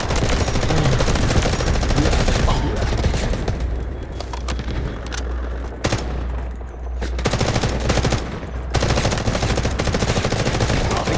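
Sustained automatic gunfire in the shooter game Delta Force rattles loudly and nearly nonstop, with bursts of rapid shots broken by a few brief lulls and no talk over it.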